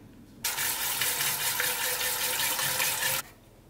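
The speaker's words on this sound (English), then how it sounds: "You rinse and drain, rinse and drain." Water from a tap gushing steadily over sprouting seeds being rinsed, a loud continuous rush that starts abruptly and cuts off after about three seconds, close by with no talk.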